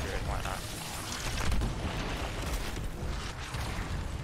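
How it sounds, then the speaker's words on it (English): Explosions and bursts in the video game Anthem, heavy rumbling booms and pops layered in a continuous busy mix of gunfire and effects, loud and close throughout. "Oh my gosh, the explosions are real."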